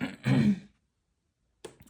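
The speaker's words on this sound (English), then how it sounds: "I keep wanting to clear my throat" A single throat clear, a short rough burst up close, followed by silence and a brief breathy onset at the end.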